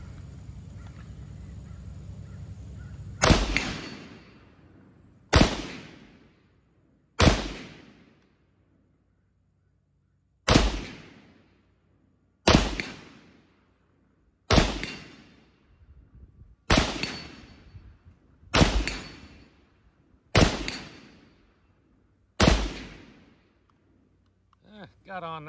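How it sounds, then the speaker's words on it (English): An SKS rifle fires single shots at a steel gong target, ten sharp cracks spaced a couple of seconds apart, each followed by a brief metallic ring and decay, loud and outdoors. "Just banging the gong here a little bit."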